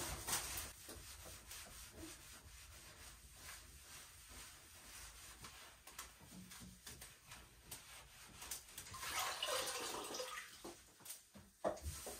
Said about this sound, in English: I'm gonna take one of these sponges, wring it out, make sure I get most of the water out of there, and then just clean away at the tile.